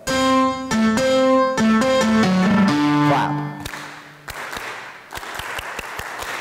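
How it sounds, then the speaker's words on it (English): Piano-like musical notes ring out in a short phrase, then an audience claps back the rhythm in a few sharp, scattered bursts of handclaps. "As soon as I finish, you clap the rhythm I play."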